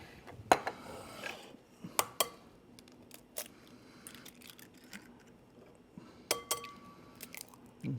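Three eggs are cracked into a small bowl for egg wash in a kitchen, giving a few sharp, close taps and cracks spaced several seconds apart, with faint clinks of bowl and utensils between them.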